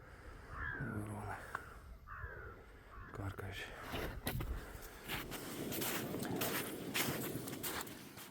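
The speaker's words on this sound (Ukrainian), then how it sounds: "Ворони чи що то таке." Crows cawing near an icy reservoir during a winter roach fishing trip: several harsh caws in the first seconds, then footsteps crunching and wind-like noise with someone talking.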